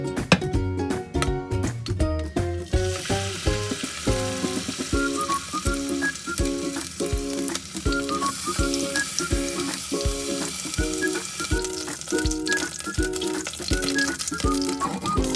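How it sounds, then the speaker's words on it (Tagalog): Beef shank sears in hot olive oil in a pan, giving a steady sizzle and crackle along with repeated clinks and scrapes of a utensil against the pan. "We need to sear first the beef shank to bring out the good flavor of the beef"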